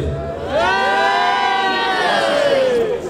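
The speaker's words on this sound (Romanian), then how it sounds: "și strigați odată, hei!" A crowd of people gathered outdoors for a Romanian New Year folk caroling custom shouts together in a sustained, loud unison cry lasting a few seconds.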